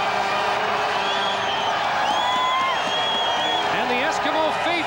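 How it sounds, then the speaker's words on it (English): Edmonton Eskimos fans cheer a touchdown at a 1992 CFL West Final against the Calgary Stampeders, a steady crowd roar running throughout beneath a commentator's voice. "And the Eskimo faithful cheering that touchdown march."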